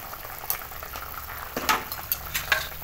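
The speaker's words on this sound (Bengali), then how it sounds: "ঝোল ফুটে গেছে, এবার দিয়ে দেবো মাছ।" Fish curry of chela fish bubbling in a pot on the stove, a steady close simmer with scattered pops and gurgles and louder bursts toward the end, heard without speech.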